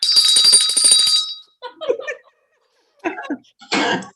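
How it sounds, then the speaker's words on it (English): A bell rung by a child at a kids' event, with a bright sustained ring for the first second and a half, then shorter ringing bursts separated by pauses, with voices in between. "I get to ring the bell"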